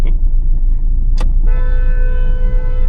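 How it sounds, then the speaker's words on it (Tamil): A car horn sounds a sustained toot over the steady rumble of a moving vehicle's engine, preceded by a brief sharp noise, in Chennai city traffic at night. "இந்த கார் ஏன் ஹார்ன் அடிச்சுக்கிட்டே இருக்கான்."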